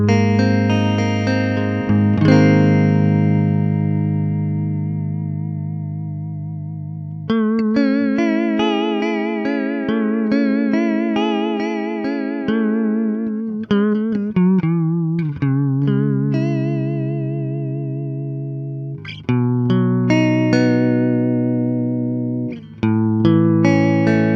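An electric guitar plays through a TC Electronic Corona Chorus pedal on its vibrato setting, loud and close, with sustained wobbling chords and single notes in several phrases broken by brief pauses.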